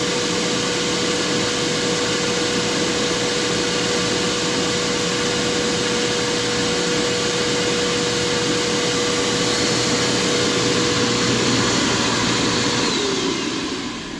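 A snow machine runs at full blast on Froggy Flakes fluid, a steady loud roar with a fan-like hiss and an even hum, unbroken for most of the stretch before easing slightly at the end.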